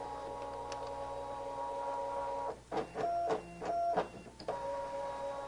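A Brother ScanNCut cutting machine runs a test cut, with a steady motor hum broken by several short mechanical whirs and clicks as the carriage moves, close and alone.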